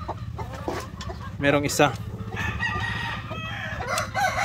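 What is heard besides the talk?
upgraded native chickens clucking and crowing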